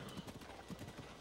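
Horse hooves clip-clop in a quick, uneven trot in Zelda: Breath of the Wild, faint and brief, a few soft thuds in a loose rhythm.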